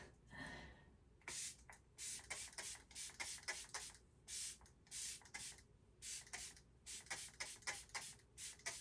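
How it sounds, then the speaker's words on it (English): Short bursts of ColourPop Lock It In setting spray with peptides and niacinamide, misted close by in a rapid series of about a dozen sharp hissing puffs with brief gaps, no talking. "I'm gonna go in with ColourPop's Pretty Fresh Peptides and Niacinamide Lock It In Spray"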